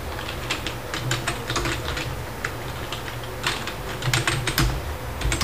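Typing on a computer keyboard while writing JavaScript code, with close, steady clicking keystrokes in irregular runs and no talking.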